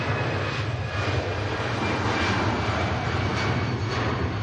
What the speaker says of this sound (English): Great to see Lufty bringing an aircraft in the fairly classic colours now